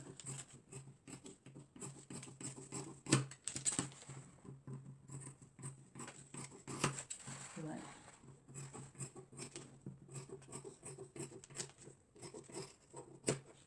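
Scissors snipping through fabric for a ruched crop top, a quiet, close series of rapid crisp cuts and rustling cloth.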